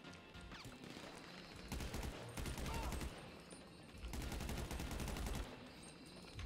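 Rapid bursts of gunfire in the video game GTA V, two long volleys of automatic shots with a quieter stretch between, loud and close.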